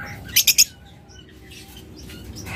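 Caged albino pet birds with red eyes at a breeder's sell three quick, bright chirps in a rapid burst, then only a faint background hum and a few soft distant calls.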